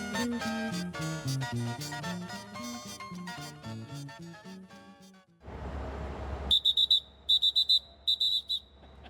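Music plays, then a rumbling pause before a series of sharp, high-pitched whistle blasts repeat in short bursts, loud and close.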